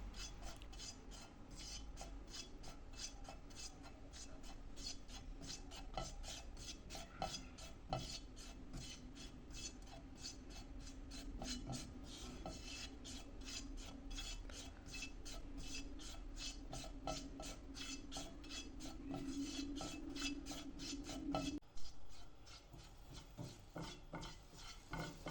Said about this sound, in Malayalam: ആദ്യം നമുക്ക് ഈ മഞ്ഞൾപ്പൊടി ഒന്ന് റോസ്റ്റ് ചെയ്തെടുക്കാം.